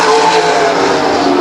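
Race cars roaring past on a speedway oval during a short-track race, a loud, continuous engine howl close to the track with some tire noise, no talking heard.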